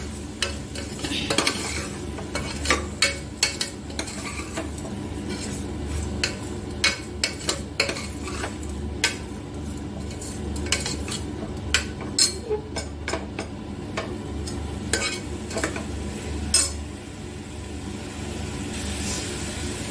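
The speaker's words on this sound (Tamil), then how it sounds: "அவரைக்காயை அதில் போட்டுக்கலாம். அதோட நல்லா வதக்கி விட்டுக்கலாம்." Broad beans being sautéed in a pan for sambar: a continuous sizzle with frequent sharp spoon-on-pan clacks and scrapes in an irregular rhythm, close up and without speech.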